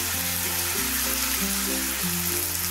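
Onion and garlic sauté in a pan with a steady, close sizzle and frying crackle that runs through without a break. Strong low tonal hum lines underneath; no one speaks.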